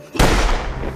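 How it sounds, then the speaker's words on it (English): A single firecracker bangs sharply near a railway and rings out in a broad burst that decays slowly over about a second, loud and alone. "Firecracker."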